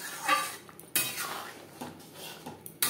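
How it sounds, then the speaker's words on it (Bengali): A metal spoon scrapes and clinks against a pot while stirring dal with ridge gourd and slit green chillies, with several sharp knocks at irregular intervals over a soft, close scraping. "ডাল ও চিচিঙ্গার সাথে কাঁচা লঙ্কা মিক্সড করে দেবো।"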